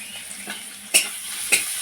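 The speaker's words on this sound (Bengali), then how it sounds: "আদা রসুনটা কয়েক সেকেন্ড আমি এইভাবে নেড়ে নেব।" Grated ginger and garlic with a pinch of asafoetida sizzle in a pan while being stirred, steady frying hiss broken by two sharp scrapes of the spoon.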